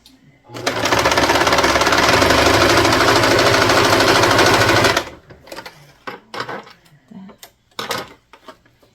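A Janome heavy duty sewing machine stitching in one loud, steady, fast rattling run lasting about four seconds, then stopping, followed by scattered handling clicks and soft voices.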